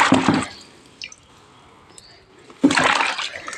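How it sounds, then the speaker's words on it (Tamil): Freshly harvested ginger being washed in water, with splashing and sloshing bursts at the start and end and quieter dripping between. "இஞ்சி எடுத்தாச்சு, அதை நம்ம கழுவி எடுத்துக்கலாம்."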